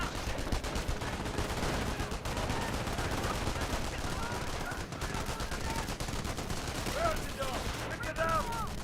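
Machine gun and rifle fire in the World War II strategy game Company of Heroes, rapid bursts of gunfire and scattered shots layered with battle noise, dense and continuous, with short tonal effects near the end.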